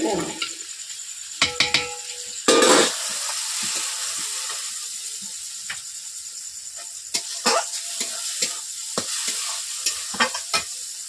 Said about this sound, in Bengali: আমি চিকেন কষিয়ে নিচ্ছি।